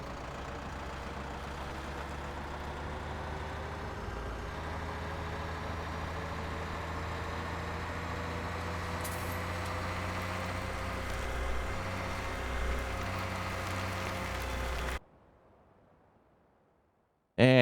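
The tractor engine in Farming Simulator 17 drones at a steady low hum for about fifteen seconds before cutting out to near silence, with a burst of sound at the very end.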